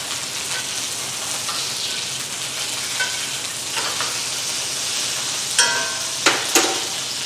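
Steak searing in a pan, a loud, constant close sizzle with sputtering crackles and a few sharp pops or utensil knocks near the end, no talking.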